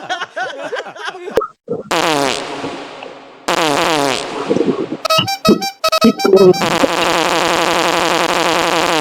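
Fart-like gunfire sound effects from the Free Fire mobile battle game, loud repeated bursts and rapid rattling volleys with sharp clicks, interleaved with game effects and brief gaps.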